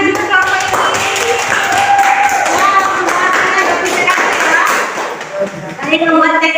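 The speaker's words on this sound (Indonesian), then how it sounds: "Oke, tepuk tangan juga kelompok ini." A classroom group claps for fellow students, scattered hand claps and taps mixed with chatter and voices talking over them throughout.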